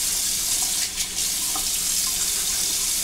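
A tap runs steadily while hands are wetted before shaving. The water makes a constant close hiss and splash throughout.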